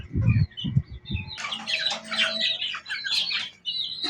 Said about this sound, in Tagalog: Yan mga idol, mga sisiw ko.